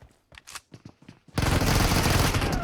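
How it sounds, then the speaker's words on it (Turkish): Gunfire in the mobile game PUBG Mobile: a few sharp shots, then a sudden dense, loud burst of automatic fire that holds steady to the end. "Ah be dışarıdan bir yerden sıktılar bana he."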